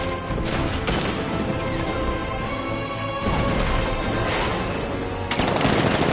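Rapid, heavy automatic video-game cannon fire from a tank blasts continuously, with sharp bursts and crashing impacts layered over a dense roar.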